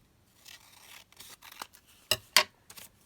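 Scissors snip through paper up close in a quiet room, a few soft rustling cuts followed by two sharp louder snips and a final small one, with no talk.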